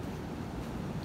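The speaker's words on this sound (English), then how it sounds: "The sea is dangerous today," Rough, dangerous sea with big waves by a heritage villa shore, a brief continuous low roar of surf with wind noise, steady and moderately loud with no voices.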